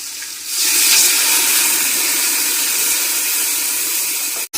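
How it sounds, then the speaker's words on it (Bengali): Water rinsed from a blender splashes into a cooking pot of chicken curry, a loud steady rushing pour that swells after a brief start and runs unbroken for about four seconds before cutting off. "মশলাটা যাতে পুড়ে না যায় তার জন্য সামান্য ব্লেন্ডারটা ধুয়ে একটু জল দিয়ে দেব"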